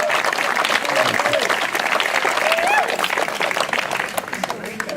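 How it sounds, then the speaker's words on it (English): A tribal gathering audience breaks into sustained, loud applause, a thick wash of clapping with a few voices and cheers rising within it before it gradually thins toward the end. "Can we give Paul a round of applause for what he does in Indian country"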